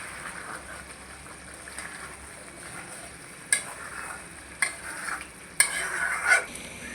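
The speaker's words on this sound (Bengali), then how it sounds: "তো এই যে আমাদের মশলা কষানো হয়ে গেছে। এখন মশলাটা দিয়ে দিব।" Spice paste frying in a pan on a home stove, a soft continuous sizzle with several sharper bursts of stirring and scraping toward the end, close by and without talk.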